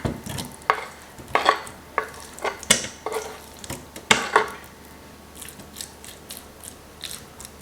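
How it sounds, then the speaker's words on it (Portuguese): Meat goes into an air fryer basket with a series of clicks, clatters and metallic scrapes, close and intermittent, followed by quieter handling sounds and no speech. "E a carne vai cozinhar aqui na air fryer."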